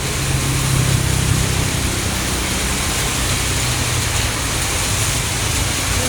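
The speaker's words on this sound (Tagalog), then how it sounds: "Dito sa kabilang side ng Guadalupe, sobrang lakas ng ulan." Heavy downpour pounds steadily on a street beside Guadalupe, a dense, loud, unbroken roar of rain that holds level from start to finish.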